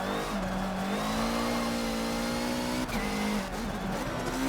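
Race car engine in Forza Motorsport 7 holding a steady, loud drone that dips in pitch as the brakes go on mid-corner, then climbs again, with faint tyre scrub underneath.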